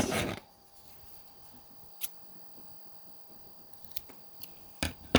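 Scissors make a few quiet, crisp snips, spaced a couple of seconds apart, while cutting a piece for a small sewing project in an otherwise hushed room.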